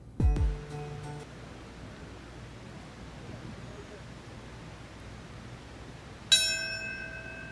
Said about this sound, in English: the piercing sound of a bell signifies the moment the first plane hit one of the towers of the World Trade Center